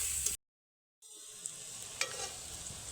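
Onions frying in a pan for egg pulao, cooked until about 80% browned, with a steady close sizzle and stirring scrapes. The sound breaks off into silence for a moment, then resumes with occasional sharper clicks of the spoon.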